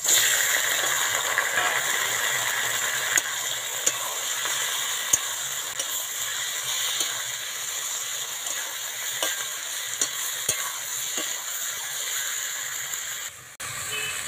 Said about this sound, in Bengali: সব মশলাগুলো খুব ভালো করে ভাজা হয়ে গেছে। এবার দিয়ে দেবো চিকেনের টুকরোগুলো।